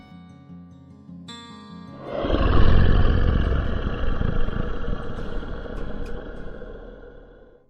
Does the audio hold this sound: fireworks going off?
no